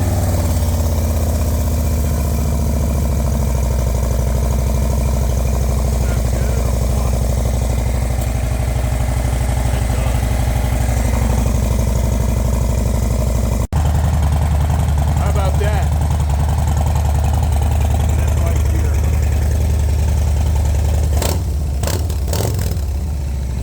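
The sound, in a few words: Indian motorcycle engine idling, Bassani exhaust, 117 motor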